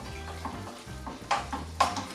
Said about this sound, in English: you could fry some garlic towards the end of the onion frying time